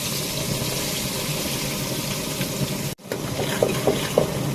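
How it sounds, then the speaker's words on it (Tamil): Small shallots sauté in a pan with a steady close sizzle. A brief drop in the middle is followed by a few light stirring clinks. "வெங்காயத்தை கொஞ்சம் நல்லா வதக்கிட்டு"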